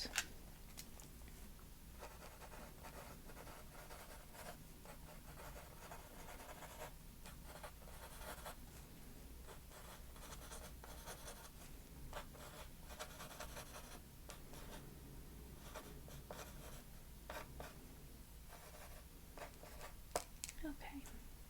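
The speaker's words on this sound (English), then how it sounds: "let me just write right here a few notes." A pen scratches notes onto paper in a soft-spoken interior designer role-play. Continuous close, quiet scribbling and rubbing strokes run throughout with small pauses, and a hushed voice talks at times.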